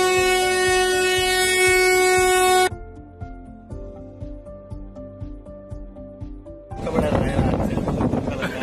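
A train horn blasts loud and steady for a couple of seconds, then cuts off, leaving rhythmic wheel clatter on the rails of a long-distance train, before a harsher roar of a passing train swells in.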